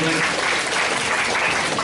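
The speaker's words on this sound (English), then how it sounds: "please put your hands together for Fred Morona" Steady, warm applause from an audience at a book launch for 'Yesterday in Paradise' at a literary festival, a continuous wash of clapping held at an even level throughout.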